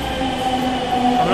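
A Delhi Metro Pink Line train carries a steady, loud rumble with sustained motor whine, heard from on board with no talking.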